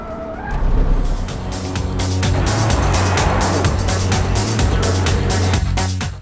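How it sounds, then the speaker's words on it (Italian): A Porsche Macan SUV is driven at the limit between the curbs on a race track with a hint of oversteer, its engine roaring loudly and steadily up close with rising and falling revs and brief gear shifts. "Giù tutto, un accenno di sovrasterzo, ma veramente niente male per un SUV portato al limite fra i cordoli"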